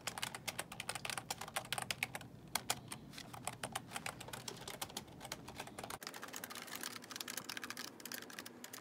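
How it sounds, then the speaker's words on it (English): Rapid typing on a computer keyboard during a typing test, a dense, uneven clatter of key clicks running throughout at close range, with no voices. "do I just start typing?"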